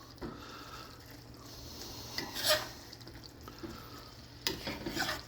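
Fiesta chicken stirred in a pan, a quiet low scraping with a couple of brief louder scrapes and clinks of the utensil against the pan, no talking.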